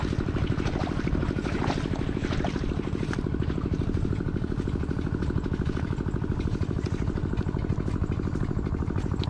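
A farm machine's engine runs steadily at close range, a dense continuous drone with a low rumbling pulse and no breaks, loud and unchanging throughout with no voices over it.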